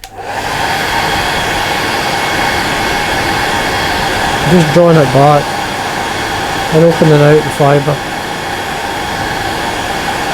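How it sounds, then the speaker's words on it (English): A hair dryer blows steadily on a freshly tied soft hackle caddis fly throughout, a constant airy roar, with someone speaking briefly over it midway. "But I'll put the hairdryer through it so you can see what it's like."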